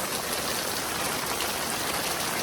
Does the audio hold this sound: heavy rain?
yes